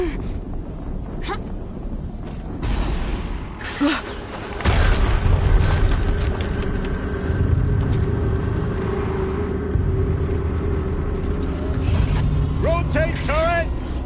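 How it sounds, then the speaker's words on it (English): Explosions and mechanical rumble from the video game Horizon Zero Dawn, a broad booming burst near four seconds, then a sustained heavy low roar with mechanical clanks and whirring, and a few high chirping synthetic tones near the end. "Another explosion."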